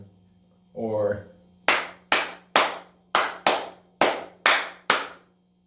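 A single person claps out the rhythm of a guitar riff for a guitar lesson: nine sharp, close handclaps in a steady pattern, preceded by a brief voice humming the rhythm against a low background hum.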